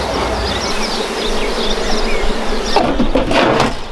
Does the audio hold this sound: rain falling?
no